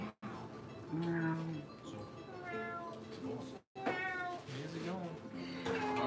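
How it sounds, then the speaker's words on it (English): A pet cat meows repeatedly in a series of drawn-out, wavering cries at close range, with brief pauses between calls and no other sounds. "But I want him to meow."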